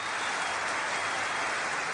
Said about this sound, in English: can we have like some sort of applause cue for Sam?